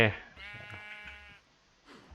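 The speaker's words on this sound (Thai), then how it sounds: "นี่คือแกะ" Minecraft sheep bleat: one wavering, nasal bleat, moderately loud and close, followed by quieter game sounds and a person's voice.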